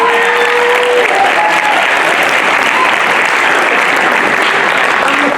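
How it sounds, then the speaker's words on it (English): A large theater audience at a one-act show gives a sustained round of applause, dense and loud, an even roar of many hands clapping throughout. "Give yourself a round of applause for showing up."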